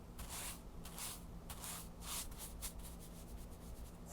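Brush strokes on a surface, soft light sweeps first, then rougher rhythmic scrubbing passes, close and quiet with no talking.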